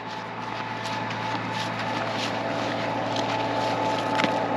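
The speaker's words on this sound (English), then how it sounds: "I'm just gonna creep along with the tractor" A farm tractor creeping slowly while towing a stuck grain truck, a steady low engine drone with a constant tonal hum and wind noise, even and unbroken throughout.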